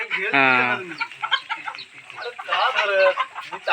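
Chickens on a newly started village poultry farm cluck and call in loud, harmonic bursts, one strong call near the start and more clucking later, with people talking in the background.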